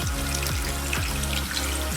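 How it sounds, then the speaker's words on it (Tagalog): Water pours steadily into a cooking pot on a lit stove as pork hocks are set to boil with garlic, a continuous splashing trickle with rhythmic surges, close and fairly loud, with no talk. "Lagyan ng tubig"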